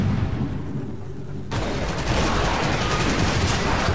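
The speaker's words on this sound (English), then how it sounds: "Switch back to the artillery." Artillery firing in the video game Toy Soldiers: Cold War, a loud, dense barrage of booming blasts and rattling gunfire that swells abruptly partway through and keeps rumbling without a break.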